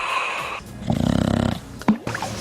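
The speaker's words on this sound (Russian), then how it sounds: "Но главный симптом – громкий храп." A single loud snore rattles in a rhythmic, vibrating burst for about half a second, with snorting breath sounds around it, heard close up.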